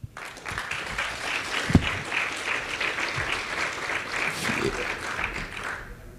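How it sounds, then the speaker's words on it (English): An audience at the 60 Million Congress in Miami in 2023 breaks into a dense round of applause: sustained, even clapping for about six seconds with a sharp clap near the start, fading at the end. "one more round of applause for that"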